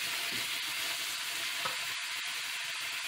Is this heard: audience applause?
no